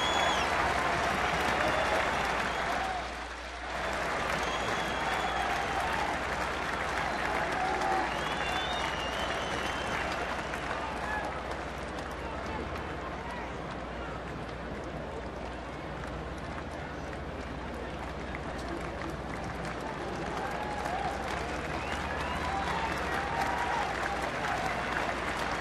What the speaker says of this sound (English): some of the fans starting to stand and cheer Zach on to another inning strikeout.